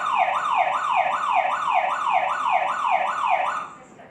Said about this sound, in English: you're going to see the alarm's going to go off.